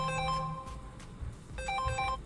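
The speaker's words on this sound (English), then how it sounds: "and that was my phone" A mobile phone ringtone plays in a short melodic burst, pauses briefly, then sounds again, fairly close and clear over a low background hum.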